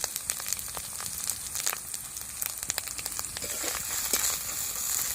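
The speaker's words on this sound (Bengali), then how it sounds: "হলুদ গুঁড়োটা দিয়ে দিচ্ছি" Fish frying in a pan as turmeric powder goes in, giving a close, steady sizzle dotted with sharp crackles and pops that swell slightly toward the end, with no talking.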